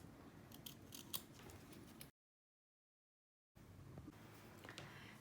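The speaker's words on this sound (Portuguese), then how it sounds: "E agora a gente vai acertar aqui, cortar esse excesso" Fabric scissors snip away excess material while trimming a patchwork hand clutch to zipper length, with crisp close-up cuts, a pause of silence, then more snipping.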